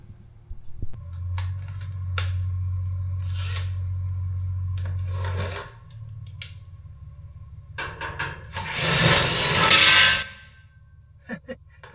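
Screws come out as home gym equipment is dismantled: a sustained low power-driver whir, scattered metallic clicks and clanks, then a louder burst of scraping and rattling near the end, close by with no talk.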